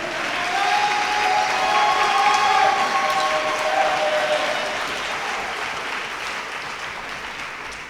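A church congregation breaks into loud, sustained applause with some cheering to acclaim God, the clapping swelling quickly and then slowly tapering off over several seconds.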